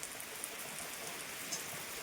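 Rain falls steadily at a farm, a soft, even hiss of drops on surfaces with no voices, fairly faint and continuous from start to end.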